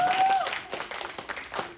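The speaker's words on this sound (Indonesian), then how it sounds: "Please tepuk tangan" Audience applause at a literacy oration during the MBAF 2025 festival, a brief burst of scattered clapping from a crowd, moderately loud and fading slightly toward the end.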